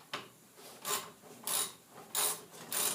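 Homemade heavy-duty wire stripper machine cutting through wire insulation, giving five evenly spaced raspy, scraping strokes at close range with no talk.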